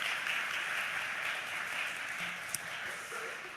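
A church congregation claps to encourage newcomers during a Sunday service, a soft, continuous patter of applause heard from a distance with a single sharper click partway through.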